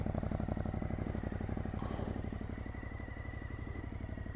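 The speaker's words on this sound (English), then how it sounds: "now the bike is into life, and we've got the lovely fuel exhaust purring away there" A Suzuki V-Strom 1050 DE motorcycle idles through its exhaust with a steady, even, throbbing purr, close and continuous with no talk.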